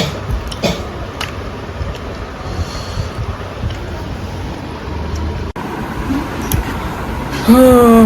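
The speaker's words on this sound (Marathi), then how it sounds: "खोकला आलाय संध्याकाळी जाईन मच्छीला" A few short coughs break through a constant outdoor wash of wind and water, followed by a rising tonal whine at the end.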